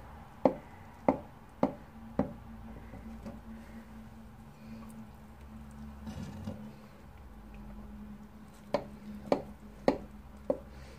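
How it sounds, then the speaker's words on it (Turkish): Sharp knife taps on a tray cutting ekmek kadayıfı into diamond slices, four quick cuts, a quiet pause, then four more evenly spaced strikes, close and crisp against low background hum. "Bunu şimdi havuç dilimi keseceğim."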